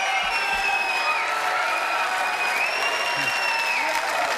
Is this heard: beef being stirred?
no